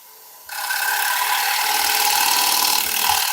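Sandpaper rubbing against a wooden piece on a woodturning lathe, a loud continuous hiss that starts abruptly after a moment of quiet and holds steady, close by and without talk.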